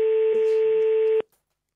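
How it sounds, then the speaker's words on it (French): Telephone ringing on a call, one steady electronic tone that holds for about a second and then cuts off abruptly. "Ça sonne, me dit-on à l'archevêché."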